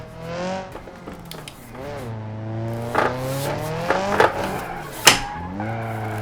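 Car engine revving through rising gear changes with tire squeal while drifting in BeamNG.drive, played on a Logitech G923 wheel; a voice talks over the engine throughout, with sharper squeals near the end.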